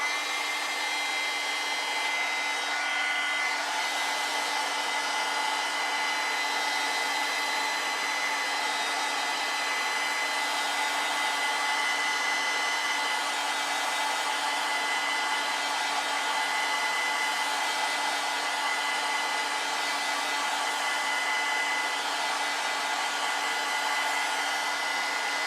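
A hair dryer blows steadily on wet pink watercolor paint, a loud, even whooshing roar held without a break for about twenty-five seconds, with no voices over it.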